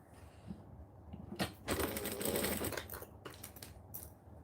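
A sewing machine stitches kangaroo-print fabric pieces with short, quiet runs of rapid mechanical whirring. A louder burst falls in the middle, and brief handling clicks sit between the runs in a quiet room.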